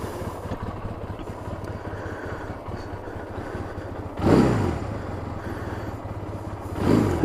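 A small motorcycle engine idles steadily while warming up, a low continuous putter close by, with two brief rises in revs midway and near the end.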